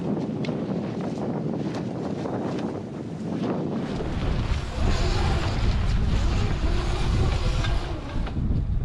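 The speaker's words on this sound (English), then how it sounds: "The wind's coming from over the land" Strong wind blowing off the land across a sailboat at anchor, buffeting the microphone in heavy continuous gusts that intensify halfway through, with no talk.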